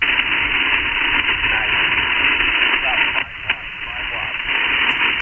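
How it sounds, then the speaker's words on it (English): A weak amateur radio signal sent at 5 watts during a summit activation with an IC-705 sits in a dense, constant wash of static hiss, and a faint voice is barely audible beneath the noise. "5 watts, it's getting hard to pick you out over the noise floor"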